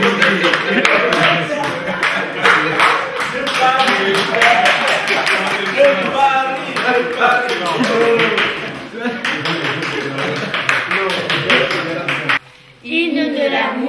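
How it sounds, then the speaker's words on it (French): An audience at an event on solidarity and anti-discrimination claps steadily and rhythmically throughout, with voices sounding over the clapping until a brief drop near the end. "je vous demande de m'applaudir."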